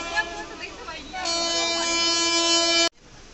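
A suburban train pulls into Bidhannagar railway station, sounding a long, loud, steady horn blast that cuts off abruptly, with softer rail rumble and faint voices before it.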